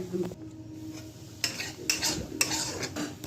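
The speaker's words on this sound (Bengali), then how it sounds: "দেওয়ার পর আস্তে লো আঁচেই থেকে কষাতে হবে।" Okra gravy simmering and frying in a pan on low heat, a soft sizzle broken by several distinct scraping stirs of a spoon against the pan, close and fairly quiet, no speech.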